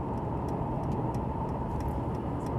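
A car's turn signal ticks in a quick, regular pattern of faint clicks over a steady low cabin and road hum.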